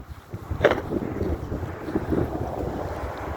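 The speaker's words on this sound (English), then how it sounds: "Uh-oh, the wind." Wind blowing outdoors on a December walk through slushy snow, a steady broadband rush with gusts buffeting the microphone, one stronger burst early on, alone without talk.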